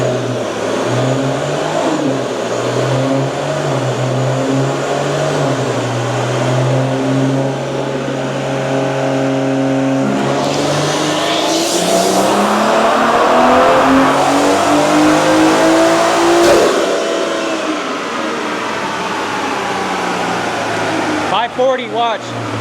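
A big turbo Toyota Supra engine runs hard on a dyno, droning loud and steady, then rising in pitch as the revs climb before dropping off near the end.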